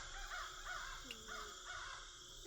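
Blackbirds call with harsh, caw-like cries near a house awning, several repeated calls at moderate distance over a steady background hum.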